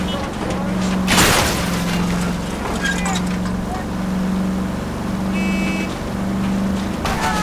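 A car in LA Noire drives fast through the streets with a steady engine drone, sharp thumps and skids along the way, as voices talk over it.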